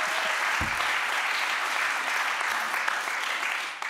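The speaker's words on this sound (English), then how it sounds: "Give them an amazing applause" Audience applause greets the editors at a book presentation on a new economy, a dense, even wash of clapping that stays steady for several seconds before tapering slightly at the very end.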